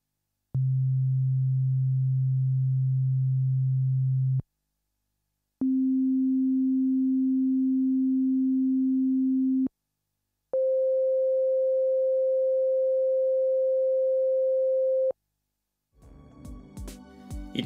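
Three steady pure sine tones from a Yamaha DX7 synthesizer with no velocity sensitivity and the fastest attack and release, each held about four seconds, stepping up in pitch with clean starts and stops, followed by a brief burst of noise.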